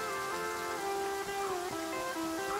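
Rain falls in the survival video game The Flame in the Flood. A soft, steady patter plays beneath sustained tonal game music, with no talk.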